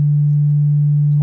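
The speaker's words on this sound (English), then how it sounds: "notice that the sine wave is changing shape. It's actually getting bigger." A steady, pure sine wave tone in Ableton Live, passed through an amp effect, holds loud and unchanging for just over a second, alone and without talking.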